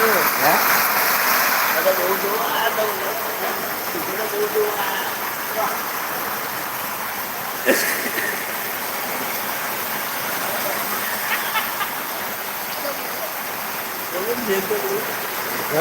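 Heavy rain falls steadily and water pours down from above onto a house in a rural village, making a continuous loud rushing wash with a few sharp knocks, while a person speaks over it.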